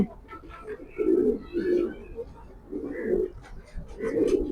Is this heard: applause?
no